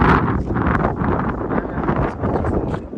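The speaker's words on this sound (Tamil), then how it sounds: "இங்கெல்லாம் காற்று இருக்கு, அப்படியே தள்ளி விடுற மாதிரி" Strong wind sweeps across a hilltop fort in Maharashtra, a continuous rushing roar that buffets the microphone with gusts throughout.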